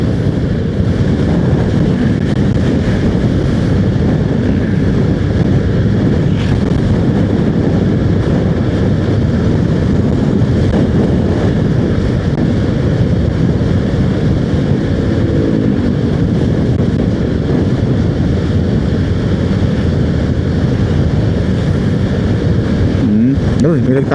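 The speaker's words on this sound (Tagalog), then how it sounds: "Taas ang hangin." Strong mountain wind roars against a closed motorcycle helmet visor while riding near San Pablo, a constant loud buffeting rush that never lets up, with a voice faintly audible under it.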